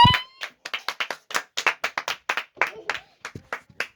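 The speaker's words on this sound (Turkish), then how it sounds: "Alkış, alkış. Alkış lütfen." A small group clapping for the winner of a vampire-villager party game, a quick run of about twenty sharp, close hand claps in an uneven rhythm, with a brief voice at the very start.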